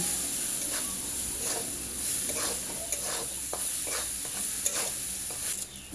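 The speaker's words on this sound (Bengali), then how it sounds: "ভালো করে নাড়াচাড়া করে পেঁয়াজ মরিচটাকে একটু ভাজা ভাজা করে নেব" Onion and chili frying in oil in a pan with turmeric added, a steady close sizzle broken by repeated scraping stirs of a spatula, no voices.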